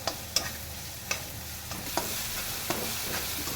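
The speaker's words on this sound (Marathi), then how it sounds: "आता ह्याच्यामध्ये आपल्याला लगोलगच बारीक चिरून घेतलेला कांदा ॲड करायचा आहे आणि कांदा आपल्याला चांगला भाजून घ्यायचा आहे" Finely chopped onion fries in a garlic-chili paste with a steady, hissing sizzle, while a spoon stirs and scrapes the pan in a few sharp, close knocks.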